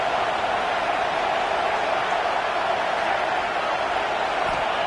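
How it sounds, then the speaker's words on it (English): Steady broadband roar of a large football stadium crowd during a Michigan vs USC game on third down, continuous and loud throughout with no breaks. "Decibels rising as the crowd gets behind this defense on third down."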